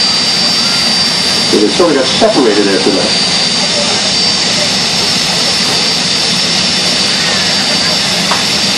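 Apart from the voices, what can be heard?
jet dragster engine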